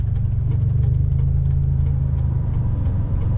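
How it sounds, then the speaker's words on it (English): A car idles close by with its air conditioner being switched on, a steady low engine drone that holds for a few seconds with a slight shift in tone partway through, no talking. "I'm gonna turn the air conditioner on."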